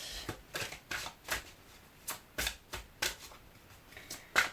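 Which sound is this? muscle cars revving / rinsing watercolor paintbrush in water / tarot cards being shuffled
tarot cards being shuffled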